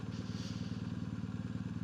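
A motorcycle engine idles steadily after being left running, its fast even putter continuous and fairly close, with a low rumbling pulse and no talk over it.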